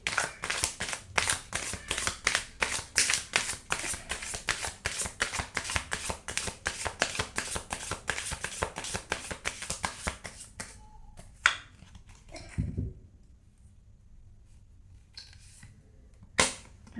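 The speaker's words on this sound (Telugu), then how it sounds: "కార్డ్ షఫుల్ చేసుకుందాం." A deck of tarot cards being shuffled up close, a long dense run of rapid riffling flutters that stops abruptly, followed by a few isolated card slaps in near silence.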